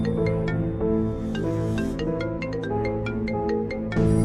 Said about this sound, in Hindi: अरे ये मोबाइल किसका बज रहा है?